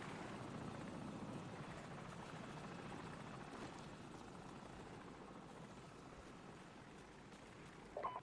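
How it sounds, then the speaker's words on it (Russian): Helicopter in the video game Call of Duty: Modern Warfare, a steady rotor drone with a continuous rumbling chop that holds at an even level throughout and sounds fairly distant, with a brief louder clatter right at the end. "вертолет."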